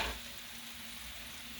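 Ground beef is stirred and mixed in a hot pan, giving a steady, even sizzle and frying hiss after a brief thump at the start, close and fairly quiet.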